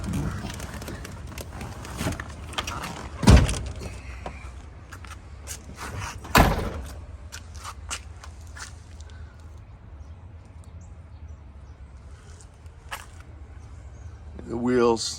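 Car door thuds twice, a few seconds apart, followed by quieter shuffling and footsteps moving around the vehicle, with someone talking over much of it.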